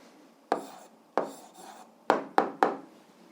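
Handwriting with a pen on paper while an algebra answer is written down: six short scratchy strokes in uneven bursts over a few seconds, close and quiet, with no speech.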